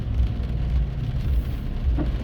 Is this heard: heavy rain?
yes